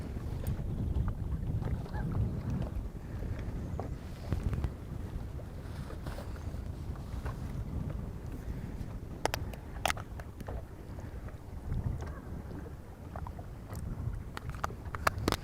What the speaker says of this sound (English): All of a sudden I got like wind on this spot.